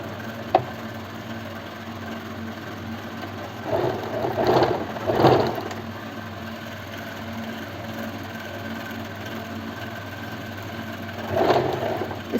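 A sewing machine stitches a kurti collar in short whirring runs, one around four to six seconds and another near the end, with quiet pauses between.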